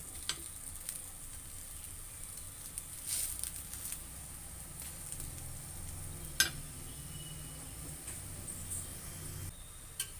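Ragi adai with drumstick leaves cooks on a hot pan, giving a faint, steady sizzle with soft crackles and a few small pops or taps, and no talk over it.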